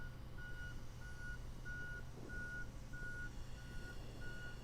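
Backup beeps from a truck reversing under a loaded storage pod ring out as a steady series of seven evenly spaced tones over a constant diesel engine rumble.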